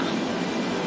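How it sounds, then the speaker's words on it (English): A train arrives at Tun Razak station in Kuala Lumpur, a steady loud rumbling roar of wheels and carriages with no pause in the short stretch. "So train dah sampai"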